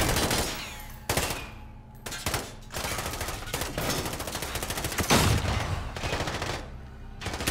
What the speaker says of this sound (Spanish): no veo de dónde vienen los disparos